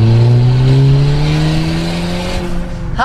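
A Volkswagen Jetta turbo engine revs loudly up close, its tone rising steadily over a few seconds of sustained acceleration.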